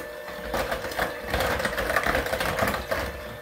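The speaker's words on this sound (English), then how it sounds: "Just use your mixer on low speed." An electric mixer on low speed whirring through milk for banana pudding, a steady buzzing motor drone with faint rattling, close by and continuous.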